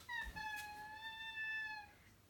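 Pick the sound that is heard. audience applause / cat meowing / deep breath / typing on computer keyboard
cat meowing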